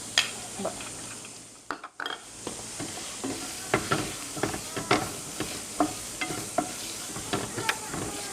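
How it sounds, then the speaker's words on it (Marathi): Finely chopped onion, about two onions, going into hot oil with mustard seeds for a spicy jackfruit dish, sizzling steadily with repeated crisp stirring scrapes and clinks of a spoon against the pan, close and continuous. "त्यानंतर आता आपण त्यामध्ये कांदा घेणार बारीक चिरलेला आहे"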